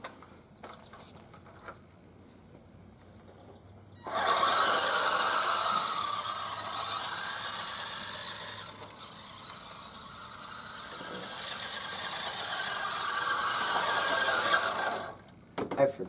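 A WPL B14 RC truck fitted with new parts and a Torque Tune 370 motor runs on its first test, giving a loud high-pitched electric whine that starts abruptly, dips briefly midway, then surges again before cutting off.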